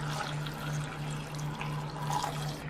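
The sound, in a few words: pouring water into Instant Pot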